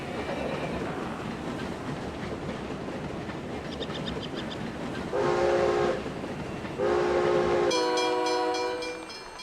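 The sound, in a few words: train entering station in video game SteamWorld Build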